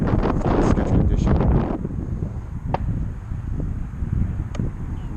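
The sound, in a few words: gusty wind blowing on the microphone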